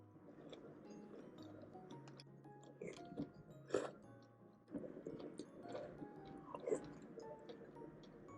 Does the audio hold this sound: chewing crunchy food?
yes